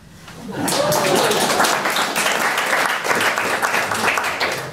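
A theatre audience in Oslo bursts into loud, sustained applause at a live stage show by Boris Dežulović and Predrag Lucić, swelling quickly and holding as a dense wash of clapping for several seconds.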